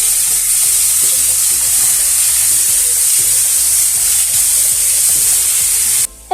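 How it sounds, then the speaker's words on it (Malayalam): Onion, ginger and garlic fry in hot oil with a loud, continuous close sizzle, broken by light stirring scrapes and taps, then a brief drop at the end. "ഇനി ആ ഒരു ഓയിലിലോട്ട് തന്നെ നമ്മൾ ചോപ്പ് ചെയ്ത് വെച്ചിരിക്കുന്ന നമ്മൾ സവോള, ഇഞ്ചി, വെളുത്തുള്ളി കുറേ ഐറ്റംസ് ചേർത്ത് കൊടുക്കാം"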